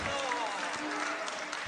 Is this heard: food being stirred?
no